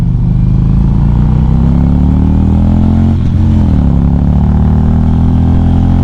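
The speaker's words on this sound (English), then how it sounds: "I think it got the Screaming Eagle exhaust on here." A Harley-Davidson motorcycle fitted with a Screaming Eagle exhaust idles and revs, giving a loud, deep, continuous rumble close by with a brief blip partway through and no talking.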